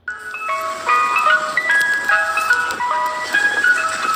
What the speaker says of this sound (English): People across the U.S. are reporting what appear to be ice cream trucks moving through neighborhoods